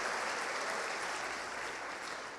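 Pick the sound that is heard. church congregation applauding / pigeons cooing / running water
church congregation applauding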